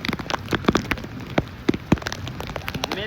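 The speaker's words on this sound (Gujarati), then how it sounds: "વરસાદ છે જોવો તમે હવે વરસાદ" Heavy monsoon rain pours down in Surat city, with fat drops pattering and smacking sharply on nearby surfaces over a constant wet hiss, close and fairly loud, with no talking.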